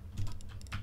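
A folder name being typed on a computer keyboard: a quick, soft run of key clicks, faint and close, in a short burst.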